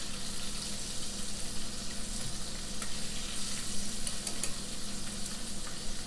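Battered shrimp in a light cornstarch-and-flour coating frying in hot oil: a steady, dense, close sizzle with faint crackles and pops throughout, and no talk.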